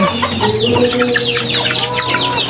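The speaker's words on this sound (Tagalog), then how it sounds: "So nandito yung iba na mga manok." Several chickens cluck and chatter close by in a busy, overlapping flock, with no talking.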